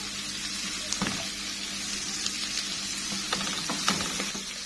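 Onions and a hot pepper fry in a pan with a steady, moderate sizzle. A few soft stirring clicks and scrapes recur through it, and nobody speaks.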